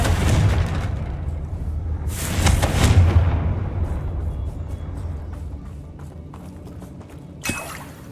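Confringo fire spell cast in Hogwarts Legacy, heard as booming explosive blasts with rumbling low end, a big burst near the middle and a sharper crack near the end over continuous game noise.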